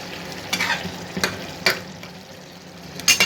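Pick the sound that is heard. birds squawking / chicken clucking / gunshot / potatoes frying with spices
potatoes frying with spices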